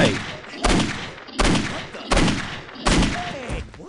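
Five loud gunshots from Postal 2, each a sharp blast with a decaying tail, fired in an even rhythm about every three-quarters of a second.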